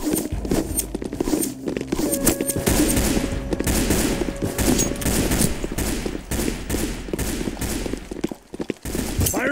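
Rapid, dense bursts of automatic gunfire crackle almost continuously in the Roblox shooter game Counter Blox, close and loud, with brief gaps between volleys and scattered footsteps beneath.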